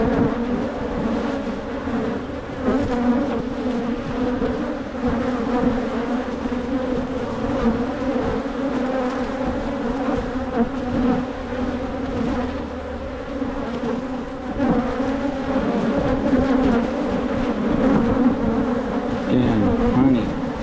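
Honey bees buzz around an open hive with frames of honey, nectar and queen cells, a dense, steady swarm drone close by that swells and dips slightly throughout, with no talk.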